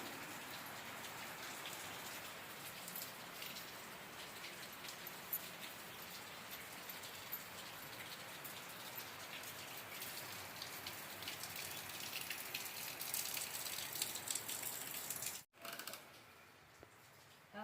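Monsoon rain falls steadily on a village in Beed, Maharashtra, pattering on surfaces for the whole stretch, a dense even hiss with scattered drop clicks, cutting off briefly near the end.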